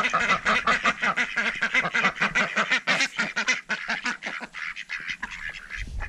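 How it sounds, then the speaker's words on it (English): A flock of ducks quacks loudly and constantly, many overlapping calls forming a dense, clamorous chorus close by. "these ducks are so freaking loud"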